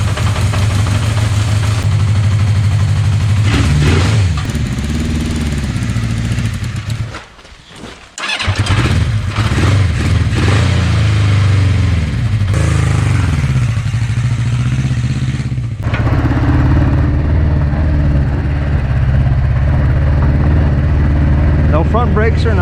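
A 1982 Honda CB650 motorcycle engine runs with a rough, clattering clutch noise, loud and close, revving and idling with a brief dip in the middle, while someone talks.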